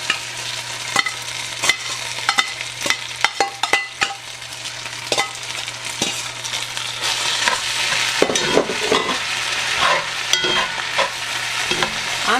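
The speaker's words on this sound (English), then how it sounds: "You can hear it's already starting to sizzle." Rice frying in butter in a hot cast iron skillet, a loud continuous sizzle with many sharp scraping and stirring clicks from a utensil, growing busier toward the end.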